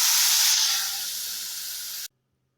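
Tamarind water poured into a hot pan of onions for rasam, a loud sudden hiss of steam and sizzle that eases slightly, holds for about two seconds, then cuts off abruptly into silence.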